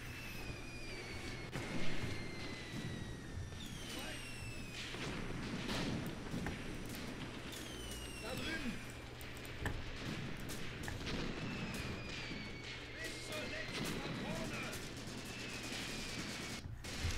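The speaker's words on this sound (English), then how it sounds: "I like seeing some explosions happening over there." Distant booming explosions and gunfire rumble repeatedly through a battle in the war game Graviteam Tactics: Mius Front, moderately faint, with occasional sharper blasts and no voices.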